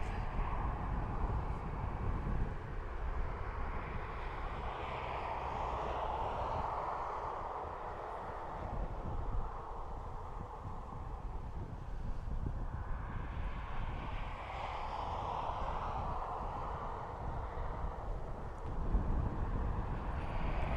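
A Ryanair jet departing Dublin Airport for Trieste, a distant, steady engine rumble that rises and falls in broad waves over a low, continuous background drone.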